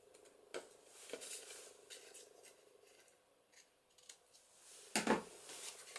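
Scissors snip through paper scraps in a few sharp, separate cuts against a quiet background, with faint rustling of paper between them and one louder crisp cut near the end.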